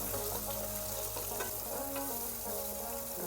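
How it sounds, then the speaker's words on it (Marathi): Onion sizzles in hot oil with cumin seeds, stirred in a pan for dhaba-style palak paneer; a steady, close frying hiss runs throughout over soft background music. "याच्यामध्ये आता आपण कांदा ॲड करूया, त्याला मिक्स करून घेऊया।"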